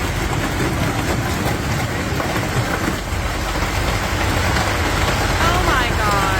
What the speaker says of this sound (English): This is a hailstorm.